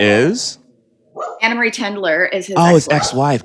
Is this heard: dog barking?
yes